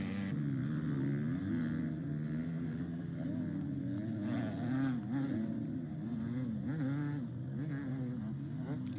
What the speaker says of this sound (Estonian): Seal oli kuulda Koskineni mootorata häält juba minemas